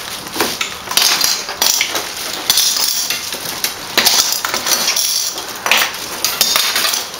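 A car sunshade solar cooker built with coat hanger wire is taken apart, producing repeated metallic clinks, rattles and crinkly scrapes in irregular bursts close to the microphone, with no talking.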